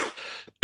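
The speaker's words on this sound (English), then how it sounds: "Shouldn't be on the air with this kind of a cough." A man on a live broadcast coughs and clears his throat, a short raspy burst followed by a brief pause and a second sharp, loud cough close to the microphone.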